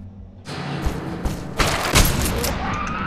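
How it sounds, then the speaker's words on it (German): Gunfire in the shooter game Total Chaos (GZDoom engine): a sudden loud burst of shots over a dense, noisy game soundscape, with several heavier booming hits following close together. "Okay, ein Schuss reicht."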